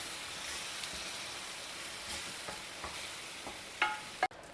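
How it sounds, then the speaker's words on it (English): Ground tomato chutney sautés in a pan with a soft, even hiss and sizzle heard fairly quietly. A few faint stirring scrapes and taps come through near the end. "Next we will add in this ground chutney. And just saute it for 2 to 3 minutes."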